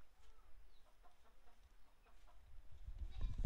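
A chicken clucks faintly and intermittently in a quiet home setting. Low rumbling noise grows louder toward the end.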